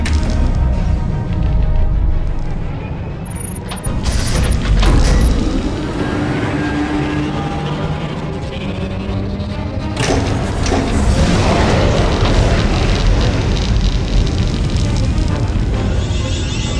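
The Silencer superweapon fires on an enemy fleet in Star Wars: The Old Republic, a heavy, rumbling roar with thudding booms that swells and surges for a long stretch.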